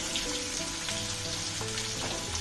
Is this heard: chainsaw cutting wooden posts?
no